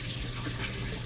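Running tap water pours steadily over konjac noodles being rinsed in a sink, a continuous close splashing wash for a short moment with no talking.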